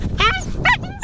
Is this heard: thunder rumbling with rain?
no